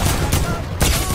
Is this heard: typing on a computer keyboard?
no